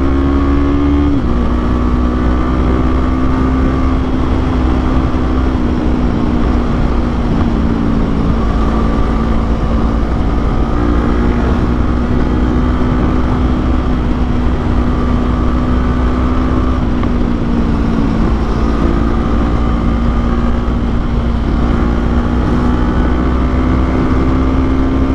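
A 2024 Kawasaki Eliminator fitted with an Akrapovic exhaust accelerates hard, its engine droning loud and close with rising and falling pitch as it pulls through the revs, with steady wind and road noise underneath.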